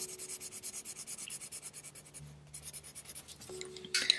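Colored pencil shading lightly across paper, a fast, even back-and-forth scratching rhythm of soft strokes, close and quiet, with a brief pause and a few sharper scrapes near the end.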